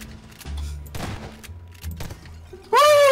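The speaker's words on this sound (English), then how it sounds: "I'm just shooting all the tables over." Prop hunt video game gunfire aimed at tables, with scattered quieter pops and thumps leading to a sudden loud burst of shooting at the end. A voice talks faintly underneath.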